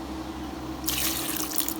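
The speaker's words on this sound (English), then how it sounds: "Add in this half a cup of water" Half a cup of water poured over cut beetroot, carrot, potatoes, cauliflower and green peas in a pressure cooker, a sudden close splashing rush that starts after a quiet hum and continues to the end.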